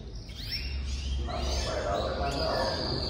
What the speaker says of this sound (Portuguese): O pardal canta mais alto